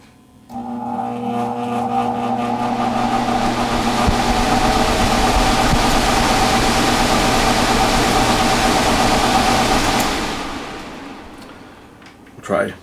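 Carrier HVAC blower fan with a replaced blower wheel running at low speed, a steady whooshing hum with a faint tonal whine that starts abruptly, holds for about nine seconds, then winds down, heard close and alone.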